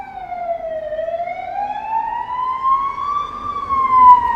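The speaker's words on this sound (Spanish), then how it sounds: "Veis las sirenas, ¿no?" Emergency vehicle siren sounds in a city a week after a blackout: one loud, steady wail dips, then slowly rises and falls over low road rumble, with no talking.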